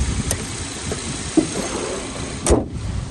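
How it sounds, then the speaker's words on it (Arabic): A 2015 Kia K3 engine idles steadily close by, a low even hum broken by a few sharp clicks and a thump, with no voices. "صوت المحرك ممتاز جدا"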